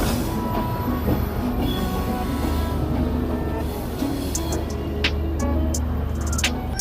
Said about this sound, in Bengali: আমাদের ট্রেন বেরিয়ে গেল।